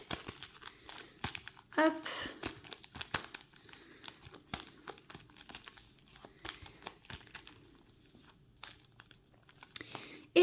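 Pokémon Scarlet and Violet trading cards from a tri-pack shuffled by hand, giving close, crinkly rustling and flicking bursts throughout, with a person talking over them.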